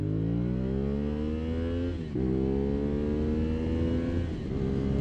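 Car with a newly flashed ECU accelerating steadily through its rev range, engine harmonics climbing smoothly with a brief dip near two seconds as it shifts, then rising again; loud and close, heard from inside, no talking.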